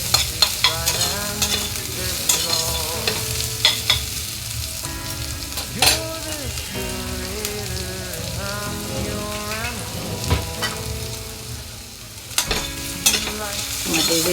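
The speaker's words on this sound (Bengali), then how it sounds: "এরপরে ক্যাপসিকামটা দিয়ে দেব। ভালো করে মিক্স করে সটে করতে হবে।" Capsicum and mixed vegetables are stirred and sautéed in a hot pan for fried rice, a steady sizzle and frying hiss running throughout with repeated scraping, clattering stirs of a spatula against the pan, close and loud.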